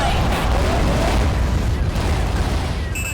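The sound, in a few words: mortars firing in video game AquaNox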